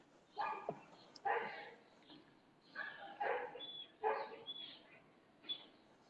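A three-year-old female pit bull terrier gives about six short, high yips and barks in an indoor room, quiet and slightly distant, with pauses between each one.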